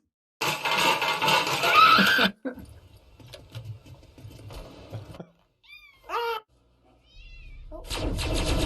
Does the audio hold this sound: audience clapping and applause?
no